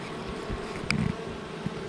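Steady buzzing of many honeybees around an open hive hums close by, a soft continuous drone with a few louder passes, no talking.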